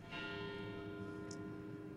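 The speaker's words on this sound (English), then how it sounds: "I'm gonna give a moment for those bells," Church bells ring during a Vermont gathering in support of Ukraine, a sustained, resonant tolling with long humming overtones that fills the whole moment, steady and fairly distant, with no speech over it.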